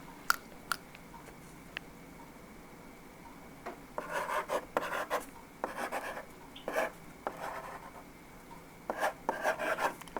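Handwriting with a pen on paper, soft scratchy strokes coming in short irregular bursts against a quiet background, with no talking.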